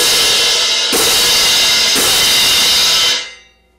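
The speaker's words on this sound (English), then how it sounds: "Now I'm going to move from all edges striking together to a flam." Hand cymbals played as a flam, top edge striking first, giving loud bright washes with three successive hits about a second apart before the ring is choked off abruptly, no talking.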